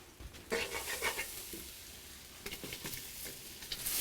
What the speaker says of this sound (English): The next thing I'm going to do right now is put in the garlic.